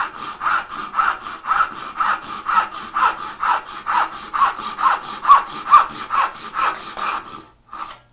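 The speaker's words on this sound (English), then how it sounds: "And then I'm going to go to the other side and lean the saw the other way." A hand saw cuts an angled dovetail in wood, with steady close rasping strokes at an even back-and-forth rhythm of about two per second, stopping near the end.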